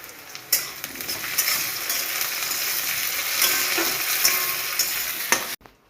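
Tomato added to onions frying in oil, a loud, dense close sizzle with occasional stirring clicks, holding steady before cutting off abruptly.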